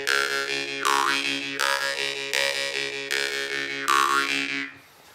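Jaw harp (vargan) played with quick, shallow rhythmic breathing and shifting vowel mouth shapes, giving a loud continuous twang whose overtones sweep in repeating pulses about once per second, alone with no talk, ending abruptly near the close.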